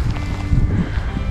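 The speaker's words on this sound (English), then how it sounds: "Sorry for the wind." Wind buffets the microphone with a low, rumbling roar that surges and dips unevenly throughout.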